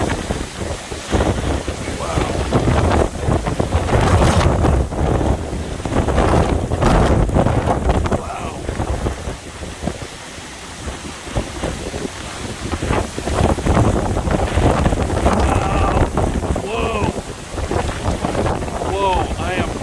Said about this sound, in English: Northern Eyewall of Nicole, Hurricane Nicole